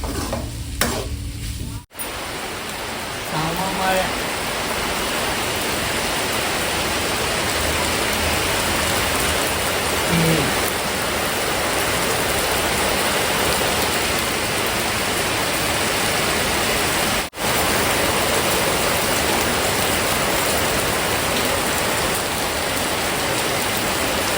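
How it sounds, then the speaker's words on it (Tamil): Heavy rain pours steadily onto a surface outside a home, a dense, continuous hiss that stays loud and unbroken throughout, with no talking. "மழை இந்த சைடு சார்ல வச்சுட்டு இருக்கு"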